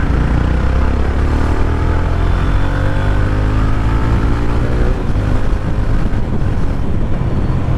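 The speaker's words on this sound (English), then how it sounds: "The exhaust note is good without that DB killer." A 2021 BS6 Mahindra Mojo 300 motorcycle runs without its dB killer, giving a loud, continuous exhaust drone that rises slightly in pitch as the bike accelerates, close to the microphone and with no talking.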